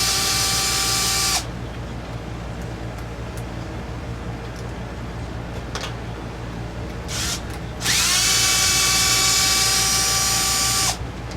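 A power driver whines at close range while backing out bolts on a crash-damaged Arrma Limitless 3S RC car converted from a Vendetta 3S. Two steady whirring bursts are separated by a quieter stretch with small clicks and handling noises.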